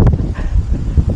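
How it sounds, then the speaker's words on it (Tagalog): Strong wind on a hilltop buffets the microphone, producing a loud, low rumbling roar with uneven gusty surges over one continuous stretch. "So ganun kalakas yung hangin dito."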